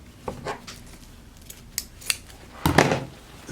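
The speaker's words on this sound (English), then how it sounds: "I'll cut it out here, just a little bit here" Scissors snip fabric for a handmade rose, several short crisp cuts at irregular intervals, close and fairly quiet, ending in a longer louder cut.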